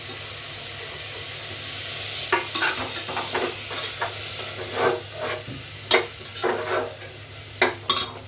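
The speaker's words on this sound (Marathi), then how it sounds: "आता बटाटा घालते धुवून ठेवला मी व्यवस्थित एकदम" Washed potatoes drop into a hot pan of oil for a khichdi-style meal, setting off a steady sizzle with a series of scraping stirs and clatters, close and fairly loud, with no talking.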